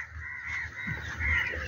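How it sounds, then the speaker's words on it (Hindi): Birds calling in a park in Islamabad, with harsh crow-like caws and chatter over a steady outdoor background that runs throughout. "परिंदों की आवाज़ें भी आ रही होंगी।"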